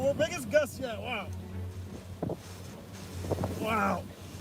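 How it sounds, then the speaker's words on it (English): Hurricane Ida's wind roars and buffets the microphone in gusts beneath excited shouting voices in Louisiana, with a low steady rumble underneath. "Oh, well, biggest gust yet."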